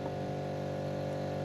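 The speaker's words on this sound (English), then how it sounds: "the neighbour's on the compressor" A neighbour's air compressor runs in a steady, continuous drone, faint and distant, with no voices or other sounds over it.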